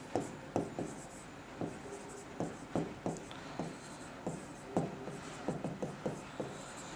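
Writing on a board during a finance lecture on derivatives market participants, with quick, close strokes and taps in irregular bursts and short pauses, heard alone without talking.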